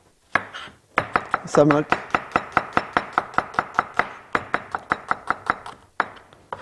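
An onion is chopped with a knife in a rapid, steady series of about twenty crisp, close taps on a board, with a brief spoken word in the middle.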